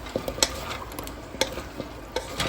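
Pinakbet vegetables stirred in a pan, a brief low sizzle broken by several quick spoon scrapes and clinks against the metal.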